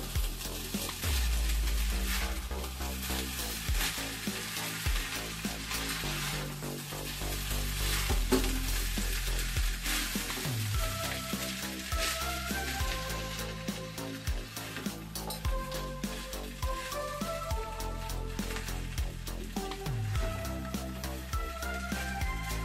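Nuts and raisins, freshly fried, are tipped into Bengali basanti pulao as it cooks, producing a steady, close sizzle that lasts the whole stretch with a faint tonal hum underneath.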